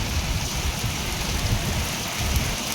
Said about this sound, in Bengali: দেখো কত বৃষ্টি